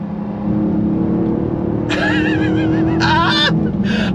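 Loud, continuous engine sound from a 2023 Chrysler 300C, with bursts of rising and falling revs as the sedan downshifts under braking, heard close over a steady low rumble.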